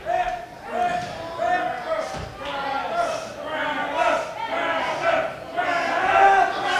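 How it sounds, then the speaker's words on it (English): Wrestling crowd at a UWA match between Rip and Travis Sawyer yells and cheers for Travis, rising and falling in bursts, with some thuds from the ring. "You got some of Travis's fans yelling for him tonight."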